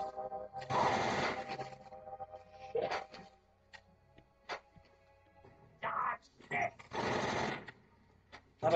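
Rapid bursts of gunfire in Metal Gear Solid 3 during a boss fight, several loud sustained volleys separated by short pops and gaps, with a voice talking between them.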